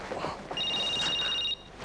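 A telephone rings in a home, a single bright electronic trill lasting about a second, clear and fairly near over a quiet room.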